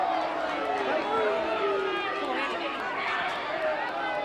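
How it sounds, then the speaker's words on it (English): Crowd noise at the 1984 VFA First Division football grand final, a steady, fairly loud murmur and roar of a large stadium crowd that carries through the whole stretch, with voices mixed into it. "And listen to the crowd."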